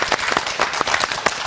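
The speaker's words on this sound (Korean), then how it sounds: "뜨거운 박수 보내주십시오." A television studio audience on a morning talk show claps in a burst of fairly close applause, with quick irregular claps rising and falling over about a second and a half.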